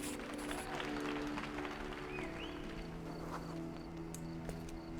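Theatre audience applauding in the video game Sherlock, a dense, even spatter of clapping that continues throughout under a low tonal music bed.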